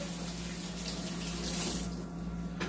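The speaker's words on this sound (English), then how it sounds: "let me wash my hands really quick" Hands wash under a running kitchen faucet, a steady close hiss of water splashing into a sink with no talking.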